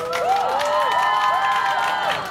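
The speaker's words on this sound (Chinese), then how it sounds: "那不然来点小小的欢呼声" A concert crowd in the middle section lets out a soft, sustained cheer of many overlapping voices, with shouted whoops rising and falling, steady and moderately loud throughout.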